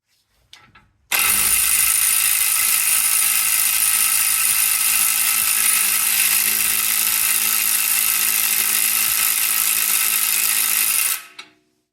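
Impact gun working on a stubborn transfer box bolt of a Range Rover Evoque or Freelander 2, a loud continuous rattling hammer running for about ten seconds, then stopping abruptly, no voices.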